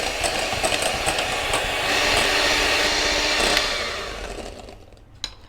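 An electric hand mixer whips 200 ml of milk with a whipped-cream mix packet into chantilly for a raspberry black forest cake, a steady close motor drone with a churning hiss that slowly fades at the end.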